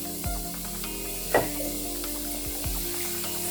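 A cabbage stir fry (Tamil poriyal) being stirred in a pan after resting covered, a soft continuous sizzle with a few spoon scrapes and one brief louder hiss, and no talking.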